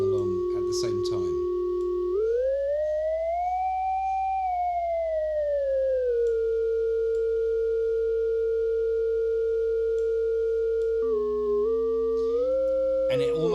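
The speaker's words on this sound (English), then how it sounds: "glassy, metallic type sound which we start to associate with FM synthesis" Glassy, metallic FM synthesis tone from a Purr Data software synth, a steady pure tone with a faint upper partial that bends up, glides back down, then steps through a few short pitch changes, heard alone after a brief burst of noise at the start.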